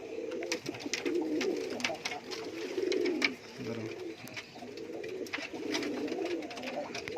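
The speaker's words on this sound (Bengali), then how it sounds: "এটা ইয়েলো ফ্যান্টেল আর এর সাথে জোড়া আছে রেড ফ্যান্টেল" Fantail pigeons, a yellow bird paired with a red one, coo in a fancy pigeon loft, with repeated soft throaty coos rising and falling steadily close by, plus faint background chatter and other birds.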